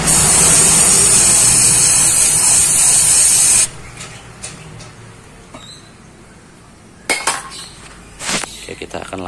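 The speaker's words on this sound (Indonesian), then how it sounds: "Cuman kita nggak ada adanya karburator cleaner, kita semprot aja sedikit ya" Carburetor cleaner sprayed into a car engine bay: a loud, steady aerosol hiss for a few seconds, then quieter clinks and handling sounds of tools and parts.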